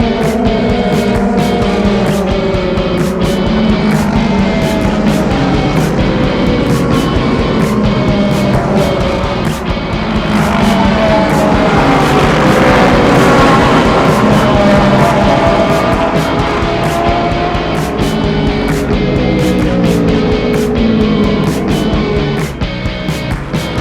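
Race cars at an IMSA event at Canadian Tire Motorsport Park roar continuously and loudly, several engines layered into a dense, sustained drone that swells toward the middle as cars pass close by, with no talk over it.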